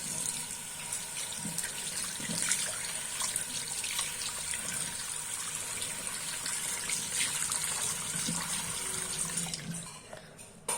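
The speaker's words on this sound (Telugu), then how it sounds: "చూడండి ఇప్పుడు వాష్ చేసేస్తాను." A reusable product is washed under a running tap, with water splashing steadily and close by for about ten seconds before the flow cuts off.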